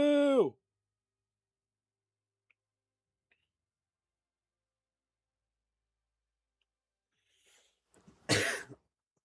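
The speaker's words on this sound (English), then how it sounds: "Oh, I tried to mute before I coughed." A person gives one short, harsh cough near the end after long near-silence, preceded at the start by a brief voiced sound.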